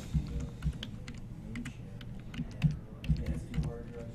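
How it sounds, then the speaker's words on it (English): A password is typed on a computer keyboard in a steady patter of quiet key clicks, close by, with no talking. "type in the old password, and then type in a new one."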